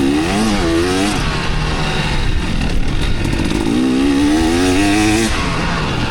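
A KTM dirt bike with a 47-tooth rear sprocket revs hard as it's ridden through soft sand on a trail, the engine note rising and falling in loud, continuous sweeps close to the rider.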